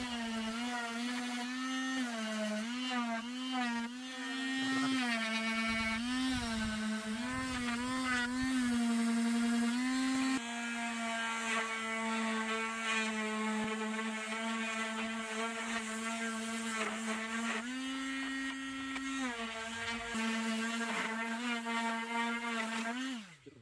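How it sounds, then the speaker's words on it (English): A power sander works over a radiator cover built from upcycled materials, giving a steady, loud, high-pitched whine that holds one pitch, wavers briefly and runs almost unbroken. "after all that sanding"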